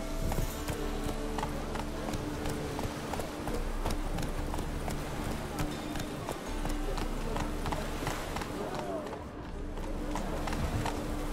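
Roach, a horse in The Witcher 3 video game, gallops with a rapid, even drumming of hooves that stays loud and close throughout, over a continuous background bed.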